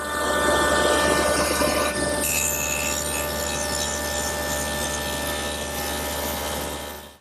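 A woodworking tool notches the ends of clamped wooden frame pieces for a CD storage case, giving a steady, close abrasive grinding whine that runs without a break.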